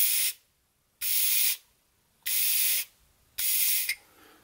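Air blown in short puffs through the needle and seat of an SU carburettor: four loud, steady hissing bursts, each about half a second to a second long, separated by near-silent gaps, close to the mic.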